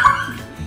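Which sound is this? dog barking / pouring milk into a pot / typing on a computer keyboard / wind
dog barking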